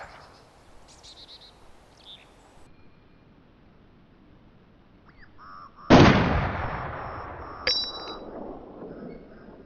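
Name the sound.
AK rifle gunshots in video game DayZ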